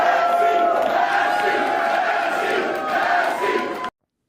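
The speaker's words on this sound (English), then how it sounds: "I was just showing you how many anti-Semites are out there cheering for Massie" A large crowd at a political victory party roars and cheers in a loud, sustained wall of voices that swells and dips for a few seconds before cutting off abruptly.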